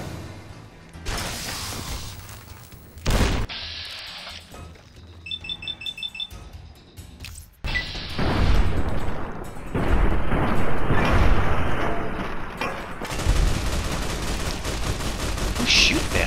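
Gunfire rings out in Fallout: New Vegas, Lonesome Road: loud automatic bursts and booming shots mix with mechanical clicks and a brief beeping alarm, followed by sustained heavy fire and a roaring rumble.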